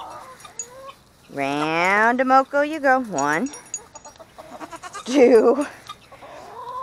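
Farm animals in a goat pen call out, with a loud, strained, wavering cry lasting a couple of seconds followed by shorter squawks, while a person talks nearby.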